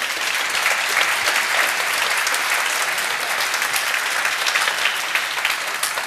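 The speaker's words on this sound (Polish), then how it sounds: "Brawa dla Karola." Steady, dense audience applause at a business self-development seminar in Warsaw, continuous and fairly loud throughout with no talk over it.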